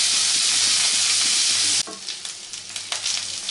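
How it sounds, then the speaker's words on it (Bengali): Steamed potato and cauliflower with turmeric frying in a pan; a loud steady hiss dominates at first, then drops to softer sizzling with a few stirring scrapes and clicks. "এবার আলু আর ফুলকপি দুটোকেই ভালো করে ভেজে নেব"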